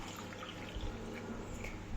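Water poured into a bowl of rice flour in a home kitchen, a steady, close liquid stream with soft splashing and trickling throughout.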